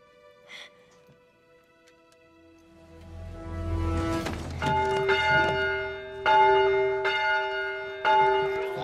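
A large church-style bell in a Christmas fantasy film setting rings out several loud, resonant strikes after a quiet start, each one leaving a long ringing decay that overlaps the next.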